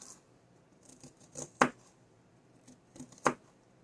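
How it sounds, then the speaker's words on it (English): An onion being cut up with a knife for potato soup, giving a handful of crisp, close chopping strikes on a board, spaced irregularly with quieter scraping between. "Cut that onion up."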